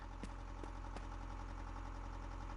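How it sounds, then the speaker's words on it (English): Bus engine sound in Dreams on PS4, a steady low droning idle hum at a modest level, with a few faint ticks near the start. "you hear the engine noise. So I've placed a sound there."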